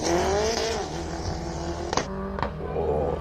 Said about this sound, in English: sound like missing a whole bunch of gears from Anton Grenier.